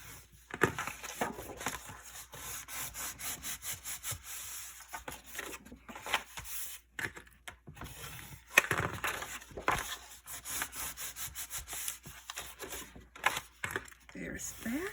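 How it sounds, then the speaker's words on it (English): Crisp crackles and sliding rubs of paper score lines being folded and burnished for a large mini album cover, coming in quick bursts with short pauses, close and fairly loud, and a voice talking between them. "fold all of my score lines and burnish them"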